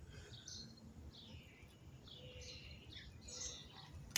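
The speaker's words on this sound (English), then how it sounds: "Those birds be screeching" Small birds chirp and call outdoors in the morning, a few scattered bright tweets rising and falling at moderate distance over a quiet background hiss, with no one speaking.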